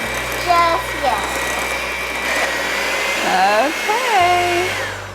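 An electric hand mixer whirs loudly and steadily through chocolate chip cookie dough in a home kitchen, then its pitch drops as it slows near the end, while an adult and someone talk over it.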